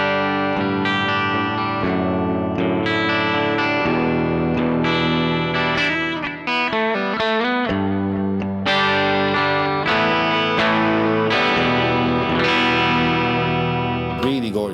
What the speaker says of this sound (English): There's a kind of tape echoey kind of thing going on.